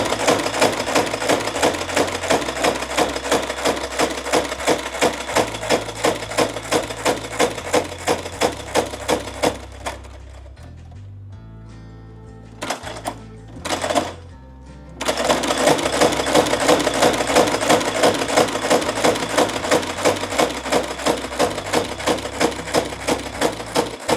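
An industrial sewing machine stitches a leather holster with a fast, steady mechanical chatter, runs loudly for about ten seconds, pauses with a few handling clunks, then resumes the same rapid, even stitching to the end.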